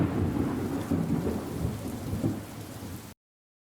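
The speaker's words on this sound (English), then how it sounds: "It's the actual sound of thunder." Deep thunder rumbling through a storm with steady rain falling on surfaces, loud and continuous for about three seconds before cutting off abruptly.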